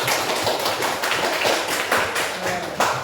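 A class of students claps for a group in a classroom, close and fairly loud, with quick uneven hand claps running continuously over a few seconds.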